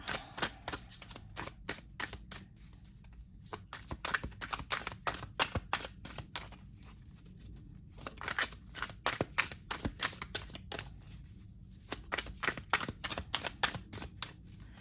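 Rapid riffle shuffles of a deck of cards, repeated bursts of fluttering clicks with brief pauses between them, close by and fairly loud.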